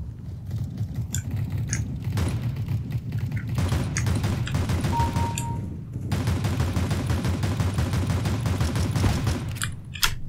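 Shotgun blasts and other gunfire in CS:GO crack out in rapid bursts, loud and close, with brief lulls and mechanical clicks between volleys.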